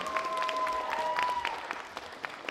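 An audience at a cosplay festival opening applauds the announced jury, a continuous fairly quiet patter of many clapping hands with a faint tonal whistle running through the first half.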